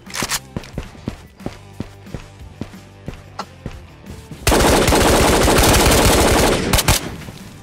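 Gunfire in the video game Ghosts of Tabor: a run of sharp single shots and footstep-like thuds, then a loud sustained burst of automatic fire lasting several seconds, close and dominant, followed by a few more shots.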